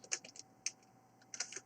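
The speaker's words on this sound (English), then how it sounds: "typing over text." Rapid bursts of clicking keystrokes on a computer keyboard while typing a line of QBasic code, close and clear, in uneven clusters separated by short pauses, with no voice.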